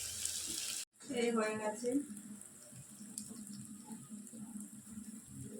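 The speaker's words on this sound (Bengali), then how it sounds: "গরম জল ঢেলে দিচ্ছি, মাংসটা সেদ্ধ হবে।" Hot water is poured into braised meat in a cooking pot, a short gushing splash after a brief cut, settling into a faint bubbling simmer, with someone briefly speaking.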